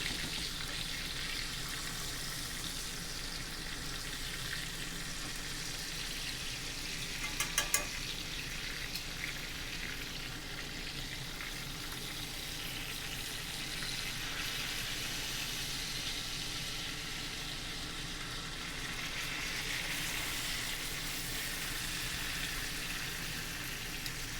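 A prime ribeye steak searing in a stainless steel pan makes a steady, even sizzle that runs unbroken for the whole stretch, close and moderately loud, with a brief clatter partway through and no talking.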